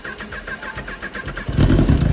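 Kawasaki ZX10R motorcycle cold start: a rhythmic cranking chug of the starter, then the engine catches and roars loudly near the end, close up with no talk.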